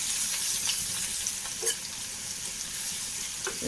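Crushed chilli sizzles and fries in oil in a pan with onion, a steady crackling hiss with faint stirring scrapes throughout.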